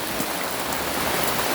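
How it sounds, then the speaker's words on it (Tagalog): Steady rain falls on a pechay garden, a dense, even hiss of drops on leaves and soil that holds at a constant level from start to finish, with no voices. "So umuulan kasi ka-farmer."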